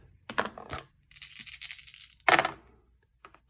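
Dice rattle and clatter across a hard tabletop in a few bursts of small hard clicks, close and fairly loud, with short pauses between rolls.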